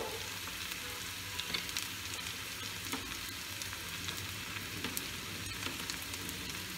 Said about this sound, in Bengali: এই পেঁয়াজটা ভাজা হতে হতে